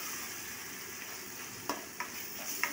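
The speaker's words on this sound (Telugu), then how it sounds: "టమాటాలు కొంచెం మగ్గనివ్వాలి." Tomatoes frying in masala for a Nellore-style fish curry, a steady soft sizzle with three brief scraping stirs toward the end.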